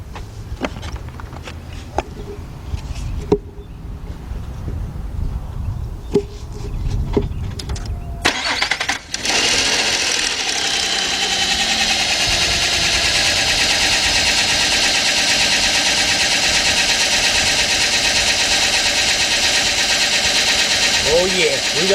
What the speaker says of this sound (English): And let me start the vehicle up.